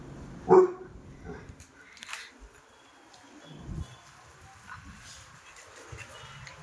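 A single sharp dog bark near the start, then a few fainter barks and scattered noises at a distance.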